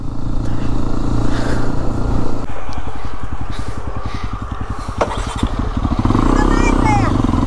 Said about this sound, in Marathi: अभी जो मैं क्लच दबाने जा रहा हूँ ना, तो क्लच थोड़ा सा लैग मार रहा है